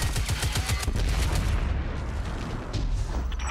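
Rapid low-recoil gunfire from a weapon in Destiny 2 fires in a quick thudding burst, then fades into a dull rumbling tail, loud and close.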